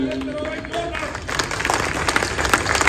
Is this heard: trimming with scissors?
no